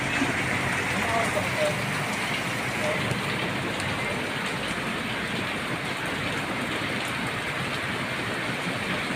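Steady, dense rain pouring down, a constant broadband hiss of drops on surfaces with no pauses throughout.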